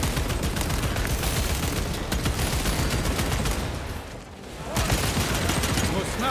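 Storm bolter fire in Warhammer 40,000: Space Marine 2, a dense, continuous roar of heavy automatic shots that dips briefly before resuming, loud and up close under the din of battle.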